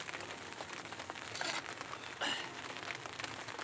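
Steady rain patters on a nearby surface at a campsite, with a couple of louder splashes or crinkles standing out from the constant hiss.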